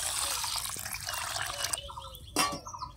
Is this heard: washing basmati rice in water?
yes